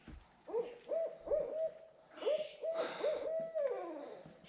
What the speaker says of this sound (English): There's an owl right up here in the tree.